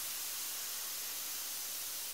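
Methylated spirit sprayed from an airbrush onto a wood surface to imitate burl grain, a steady close hiss running evenly throughout and cutting off abruptly at the very end.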